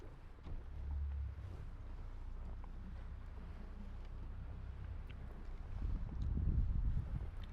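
A boat motor idles low and steady while a boat backs off a hoist lift, with rumbling water and wind buffeting the microphone, faint and distant, swelling slightly near the end.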